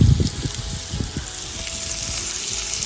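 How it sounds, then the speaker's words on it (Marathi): Flour-coated fish, such as pomfret, frying in hot oil over a wood-fired stove, a steady close sizzle with a louder burst of crackling at the start, then an even hiss. "आणि असं तेलात सोडून द्यायचं"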